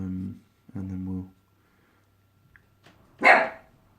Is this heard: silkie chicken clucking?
no